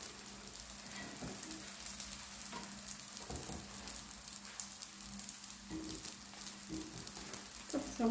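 Rziza dough frying in butter in a pan gives a faint, steady sizzle with soft crackles and a few brief clatters, no talking.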